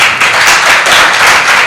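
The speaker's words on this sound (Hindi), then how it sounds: "तालियां बज रही, हमें कहना ही नहीं पड़ा" An audience at a Hindi religious sermon given by a monk claps steadily, a dense, loud, continuous wash of applause with no pauses.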